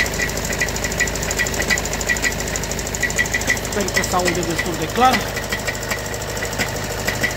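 Worn dual-mass flywheel knocking on a Skoda Octavia 3 with a 6-speed DSG gearbox, a fast, even rattling tick over the idling engine, close and loud, with someone speaking over it.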